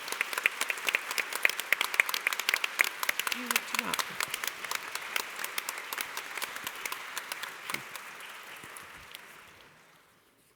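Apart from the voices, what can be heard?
audience applause for panel speakers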